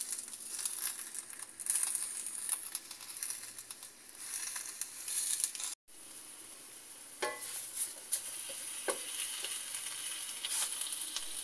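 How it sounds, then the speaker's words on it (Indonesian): Pepes wrapped in banana leaves roast in a dry wok without oil, giving a steady close crackle and sizzle with occasional crinkling of the leaves. The sound cuts out for an instant midway and then continues. "Pepes yang udah dibungkus daun pisang dibakar"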